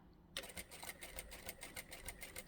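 A sewing machine stitches fabric for a small pocket tissue pouch, a short, quiet, rapid rhythmic clatter that starts suddenly and carries on steadily.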